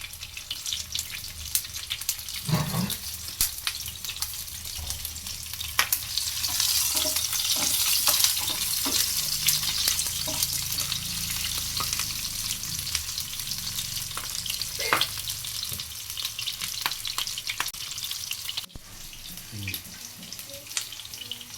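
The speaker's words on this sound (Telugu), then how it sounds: "ముందుగా స్టవ్ వెలిగించి ప్యాన్ పెట్టుకొని ఆనియన్స్ వేసుకోవాలి తర్వాత రెండు పచ్చిమిర్చి" Onions and green chilies fry in a pan on a stove, a steady hiss of sizzling oil running throughout with occasional scraping stirs and clinks, close and fairly loud.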